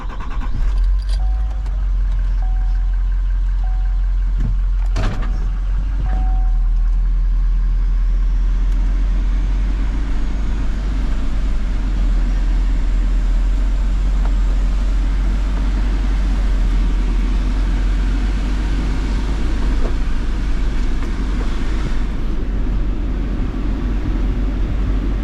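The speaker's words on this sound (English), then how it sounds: "let's hop in this mason dump and take a ride down the driveway" A mason dump truck rolls down a driveway, a steady low engine drone and cabin rumble with a few rattles and jangles early on, heard continuously from inside the cab.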